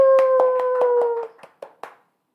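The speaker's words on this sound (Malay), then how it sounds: "So, tepuk tangan, tepuk tangan." Hands clap in a quick, even rhythm about nine times over a sustained hum, then a few last scattered claps trail off into silence.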